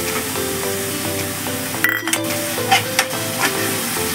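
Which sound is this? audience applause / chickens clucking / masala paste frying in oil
masala paste frying in oil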